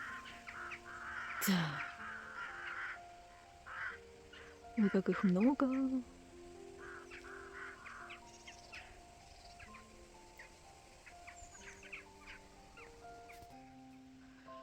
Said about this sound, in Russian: А еще птицы полетели на юг.